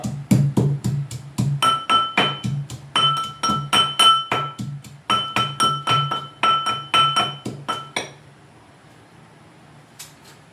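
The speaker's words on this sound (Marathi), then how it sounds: "तोपर्यंत आपण लसूण कुटून घेऊया" Garlic being pounded for a Maharashtrian drumstick curry, a fast run of sharp, ringing strikes in steady rhythm for about eight seconds, close and loud, then stopping with one last knock.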